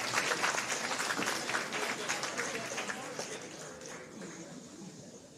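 An audience at a high school senior celebration breakfast breaks into a round of applause, dense clapping strongest at first and tapering off gradually, with a few voices underneath.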